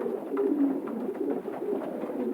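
A racing pigeon coos softly nearby, a series of low, rolling throaty calls repeating over a couple of seconds.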